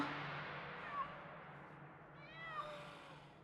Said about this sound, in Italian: Un gatto.